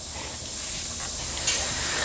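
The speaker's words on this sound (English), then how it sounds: "Nothing quite like a compressor, always on cue." An air compressor in a workshop where a vintage Ford Capri race car is being restored gives off a steady, moderately loud hiss of escaping air. It holds an even level for about two seconds, rising briefly near the end.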